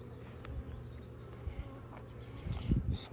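Honeybees buzzing around open frames during a February hive inspection, a close, steady low drone with louder passes near the end.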